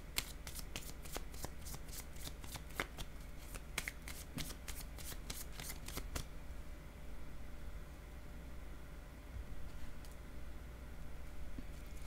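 A deck of cards is riffled and shuffled for a card draw, a fast rapid run of crisp flicks lasting several seconds up close, then a quiet pause with a faint rustle.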